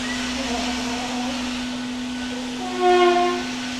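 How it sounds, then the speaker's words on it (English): Squeegee on a Karcher B150R floor scrubber, a steady hum under a rising horn-like squeal near the end, close and fairly loud. "make some squeegee noises."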